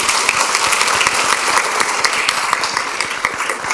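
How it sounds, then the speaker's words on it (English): Board meeting audience gives a loud, dense round of applause, continuous clapping from many hands with no speech over it. "Let's give one more round of applause, please."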